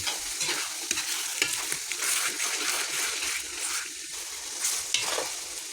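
Chicken pastil cubes being stirred and fried in oil, a steady crackling sizzle with scraping stir sounds throughout, close and fairly quiet.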